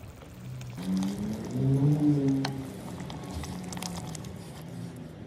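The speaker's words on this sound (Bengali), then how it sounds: "যে ব্লেন্ডারে আদা রসুন পেস্ট করেছিলাম সেই পানিটা দিয়ে দেব 1 কাপের মতো" Ginger-garlic water rinsed from a blender poured into a pot of spiced meat for beef rezala, a steady close liquid splash with a gurgling swell early on, then a softer wet bubbling simmer.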